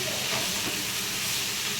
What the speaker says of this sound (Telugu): ఇగో ఇప్పుడు ఉడకబెట్టుకున్న క్యాబేజీ ముక్కలు వేస్తున్నాం